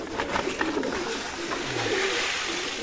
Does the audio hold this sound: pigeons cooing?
yes